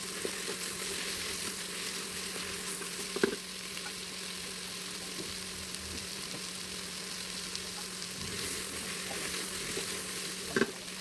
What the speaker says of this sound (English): Add it to the onion tomato mix and saute gently